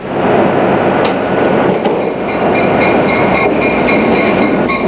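A Canadian passenger train from the early 1990s rumbles steadily along the rails, loud and continuous, with faint metallic squeals and rhythmic clatter from the wheels.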